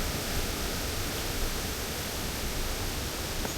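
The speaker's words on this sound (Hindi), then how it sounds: "पानी की शोर भी बहुत आ रहा है।" Rushing water at Triplet Falls in a redwood forest, a steady broadband roar of cascading water, continuous and fairly loud with no voices.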